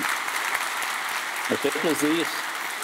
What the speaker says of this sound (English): A big hand of applause for Dries.